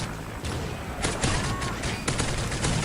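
Rapid bursts of thermal-scoped UMP submachine gun fire in the online shooter game Fallen, loud and continuous with sharp repeated cracks over a dense background of game noise.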